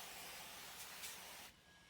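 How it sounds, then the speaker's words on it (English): A soft aerosol spray of cooking oil onto a kitchen counter hisses steadily for about a second and a half, close by, then cuts off to quiet room noise. "I'm going to go ahead and spray the counter just a little bit"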